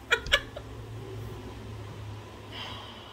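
A cat gives two short, sharp meows in quick succession near the start. A low background hum follows with nothing else prominent.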